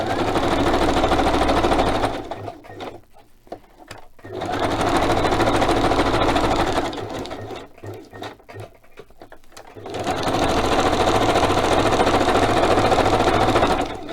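A sewing machine stitches in loud, steady runs of rapid mechanical whirring, separated by two quieter pauses, close to the listener, with no talking.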